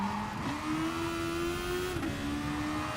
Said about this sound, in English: starting to feel the wheel spin